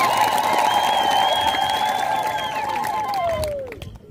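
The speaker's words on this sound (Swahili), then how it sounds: "Tujipige makofi." A crowd of children at a gathering in Karua claps and cheers, a broad mid-level wash of applause with voices rising over it and fading out near the end.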